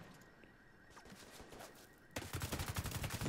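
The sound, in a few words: gunfire in video game The Division 2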